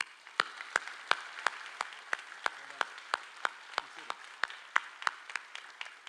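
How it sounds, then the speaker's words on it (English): Audience applause at a fire academy recruit graduation, distinct individual claps ringing out in a steady, evenly spaced rhythm, moderately loud against a quiet room. "Let's give them a round of applause."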